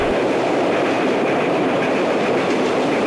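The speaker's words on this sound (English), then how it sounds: "Train approaching. Please remain behind yellow line." A train approaching a station rumbles steadily nearby with a continuous rushing roar and faint rhythmic clatter of wheels on track.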